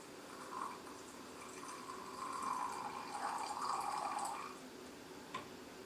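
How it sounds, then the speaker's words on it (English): Hot water poured over loose tea leaves, a faint, steady trickle that swells for a couple of seconds in a quiet room and then tapers off, with no talking. "and then pour the hot water"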